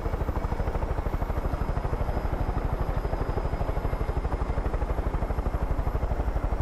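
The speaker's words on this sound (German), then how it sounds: "Vielleicht kriege ich auch einen anderen Helikopter jetzt." A helicopter flying in the video game Far Cry 5 gives a steady, fast, rhythmic thumping of rotor blades over an engine whine, loud and continuous with no talking.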